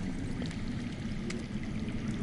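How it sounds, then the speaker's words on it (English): Water running underground somewhere close by, a steady rushing flow that is dense, continuous and fairly loud throughout, with no voices. "I hear water. From underground."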